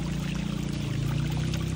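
Rainwater runs through village streets in Cantabria after a night of rain, a steady, full rushing and pouring flow that stays constant and close throughout.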